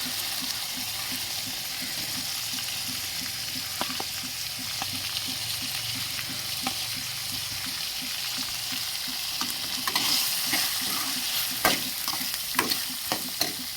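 Finely chopped onions fry in a pan with a steady, fairly quiet sizzle, broken by occasional stirring clicks and scrapes, cooked for a dried potato curry.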